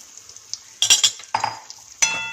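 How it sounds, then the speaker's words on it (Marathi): A spoon stirs finger millet (nachani) flour roasting in ghee in a pan over a low flame, giving a few short scraping clinks and soft sizzles between quiet pauses. "आणि गॅसची फ्लेम स्लो ठेवून हे आपण थोडंसं भाजूया"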